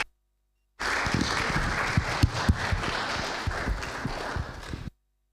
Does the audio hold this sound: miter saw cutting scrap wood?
no